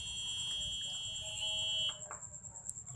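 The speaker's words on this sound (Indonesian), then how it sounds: "berisik buzzernya" An electronic buzzer on a TCS3200 colour sensor project sounds a steady, noisy high-pitched tone that cuts off abruptly, followed by faint clicks and a short beep.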